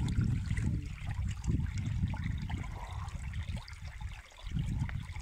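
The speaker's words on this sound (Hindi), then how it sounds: "ये पहाड़ों का पानी है" A mountain stream flows steadily with a soft, continuous wash and gurgle, fairly quiet and close, with no voices over it.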